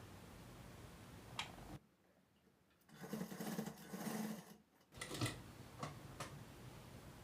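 Sewing machine stitching along the folded edge of a blouse, a steady mechanical whirr in short runs separated by a pause, with light clicks at the start and end, close and fairly quiet with no talking.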